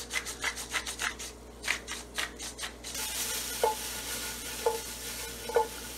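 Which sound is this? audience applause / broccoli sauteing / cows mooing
broccoli sauteing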